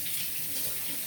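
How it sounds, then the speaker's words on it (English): Tap water runs steadily from a faucet over an onion being rinsed, a continuous close hiss and splash with no pauses and no speech. "I wash the onion"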